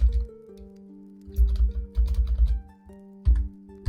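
Keys clatter on a computer keyboard as C++ code is typed, a run of quick, uneven clicks close by over a steady low hum, with brief pauses between bursts.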